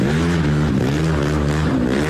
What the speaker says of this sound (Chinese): 骑着改装机车竞速狂飙